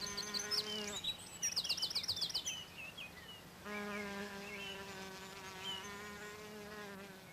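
A bee buzzes near primroses in the early spring Cotswold countryside, a faint steady drone that rises and falls, with a few bird chirps and light ambient hiss behind it.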